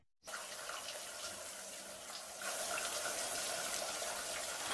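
Shower water runs in a cartoon bathroom, a steady hiss that starts abruptly and grows a little louder partway through.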